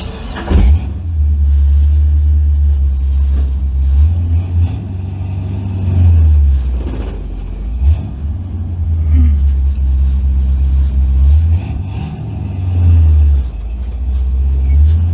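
An old Ford car, under repair for faults, revving its engine hard in repeated bursts, a loud low rumble rising and falling several times, close by, with occasional talk.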